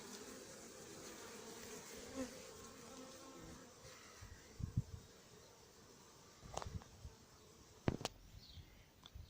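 A honeybee swarm sits in a cardboard box during hiving on a farm, giving a faint, steady buzz close by with a few brief knocks and rustles.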